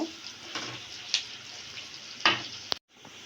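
Cumin seeds and chopped ginger frying in a pan, a steady hiss with a few sharp crackling bursts, close and moderately loud, no voices.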